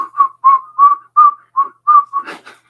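A child whistles a simple tune up close, eight or so steady, clear notes in an even rhythm, ending with a breathy sound.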